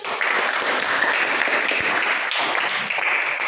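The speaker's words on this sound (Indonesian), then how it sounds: "Jadi berikan aplaus dulu." A class of students clapping together in a classroom, dense steady applause close by that holds evenly for a few seconds with no talking.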